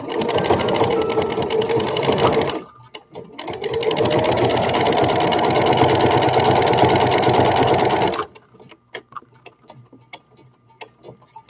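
A sewing machine running a top stitch, a fast, loud mechanical chatter in two long bursts separated by a short pause, then stopping into quiet ticks and handling sounds.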